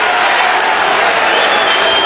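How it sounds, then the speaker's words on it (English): A large New York arena crowd at the 2006 NBA Draft cheers and applauds the Rutgers pick of Quincy Douby by the Sacramento Kings, a dense, steady roar of clapping and voices throughout. "the New York crowd loving the Rutgers pick"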